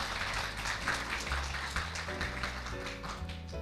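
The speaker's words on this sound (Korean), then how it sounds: "여러분 박수 한번 부탁드립니다." A studio audience at a Korean talk-show stage event applauds with dense, steady clapping for actor Ryu Seung-ryong, with soft sustained music tones underneath and no one speaking.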